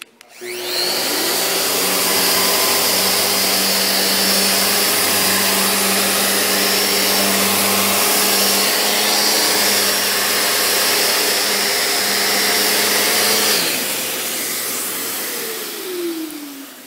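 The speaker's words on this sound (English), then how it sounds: "So I've got an RO90 hooked up to a CT MIDI. This would be a typical setup for in-between coat sanding." A Festool RO90 sander hooked to a CT MIDI dust extractor runs for in-between coat sanding, a loud steady whine with constant hum that holds for about thirteen seconds, then winds down with a falling pitch.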